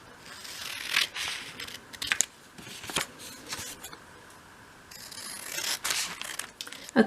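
Scissors cut out small paper pieces for a 1/12 scale miniature shop project, making soft intermittent snips and paper rustling close by, fairly quiet throughout.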